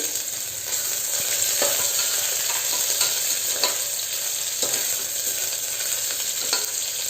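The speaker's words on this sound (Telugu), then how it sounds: "అల్లం వెల్లుల్లి పేస్ట్ వేస్తున్నానండి కొంచెము" Ginger garlic paste and green chillies fry in hot oil for a soya chunk biryani, a constant close sizzle broken by occasional scrapes of stirring, with no talk.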